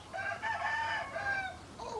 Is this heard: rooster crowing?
yes